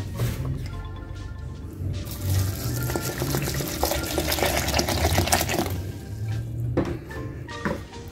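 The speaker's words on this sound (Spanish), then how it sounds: "Vamos a agregar agua hasta cubrirlo." Water poured from a tap over ground peanuts and cinnamon in a blender jar for peanut horchata, a continuous splashing, filling flow lasting several seconds at close range, with a mechanical hum underneath.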